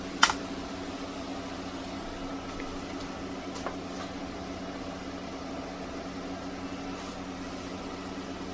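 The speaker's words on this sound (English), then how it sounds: "The machine is a lot louder now." Computer cooling fans running with extra airflow fill the space with a steady, loud whooshing hum, broken by a couple of brief clicks near the start.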